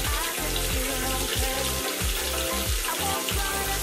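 Water runs steadily from a tap into a sink, a continuous hissing splash close by with no voices.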